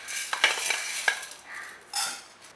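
Coriander seeds dry roasting and being stirred in a pan, with faint crackling and a few sharp scraping taps of a spoon against metal at close range, all fairly quiet with no talk.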